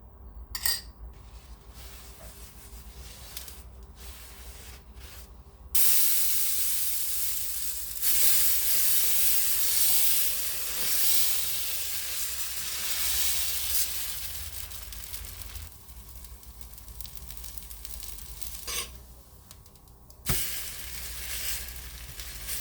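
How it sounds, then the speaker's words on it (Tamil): Dosa batter sizzles loudly on a hot pan, a bright steady hiss that rises as the batter hits the surface, with occasional utensil clinks and scraping; no talk. "அதுக்குள்ளே நாங்கள் தோசையை சுட்டெடுத்துக்கொள்வோம்"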